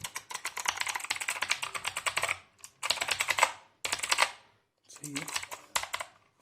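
A Redgear Shadow Blade mechanical keyboard with blue switches clacks under fast typing in several dense bursts separated by short pauses, loud and close, with a brief spoken remark in one gap.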